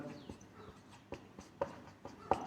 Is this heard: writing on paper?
yes